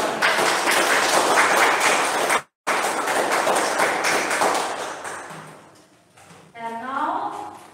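Applause from a school debate audience fills the room as a dense, steady clatter of clapping, cut by a brief gap, then fading under a voice that speaks at the end.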